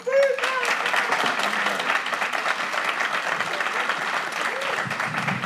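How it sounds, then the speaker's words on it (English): Members of the public at a city council meeting break into applause and cheering, a loud sustained burst of clapping with shouts and voices mixed in, lasting throughout. "We want to keep this cheering and the jeering down."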